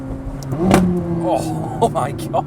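A McLaren 600LT engine revving from inside the car, with a loud surge early on, then rising and falling engine notes as a voice briefly exclaims.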